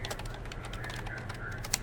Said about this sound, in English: I'm just typing this up as we go here